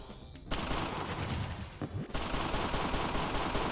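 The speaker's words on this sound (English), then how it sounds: "Okay, so here is some machine gun stuff" Rapid machine gun fire in the video game Action Ball 2, a dense, loud burst of rattling shots that cuts out briefly and then resumes, with no talk over it.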